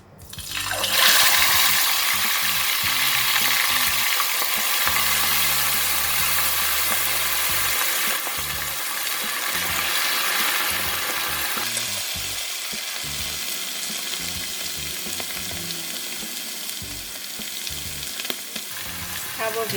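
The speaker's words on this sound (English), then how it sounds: "So when we deep fry, we want to have the fish covered with the oil." Stingray pieces deep frying in a pan of hot oil, with a loud, dense sizzle and bubbling that starts suddenly and carries on without a break.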